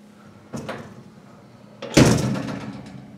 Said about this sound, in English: So let's enter the lift. I'm trying not to slam it.